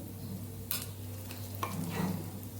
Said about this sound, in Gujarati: જીરું અહીંયા સરસ આપણું ફૂટી ગયું છે અને પાંચ ચમચી જેટલી આપણે હિંગ ઉમેરશું